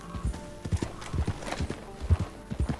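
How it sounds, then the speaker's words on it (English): Horse hooves clip-clop at a steady walking rhythm while a character rides in the Red Dead Online video game, close and distinct with faint background ambience. "As you can see here, there's your character riding your horse"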